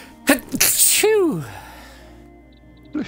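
A loud human sneeze bursts out abruptly on its own, followed by a trailing exhale and a short voice afterward.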